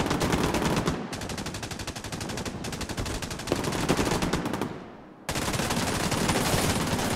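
Gunfire in The Division 2: rapid automatic bursts rattle almost continuously, loud and close, with a short break near the end before the firing picks up again. No voices.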